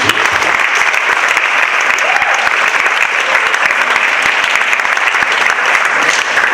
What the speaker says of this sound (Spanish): Les pido un fuerte aplauso para la maestra.